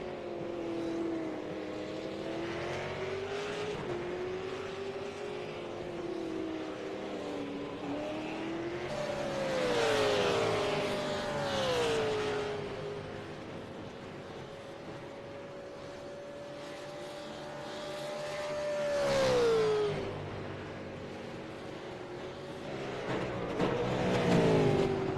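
Race cars howl around a track, engine notes rising and falling as they pass in waves, loud and sustained with doppler sweeps, with no voices.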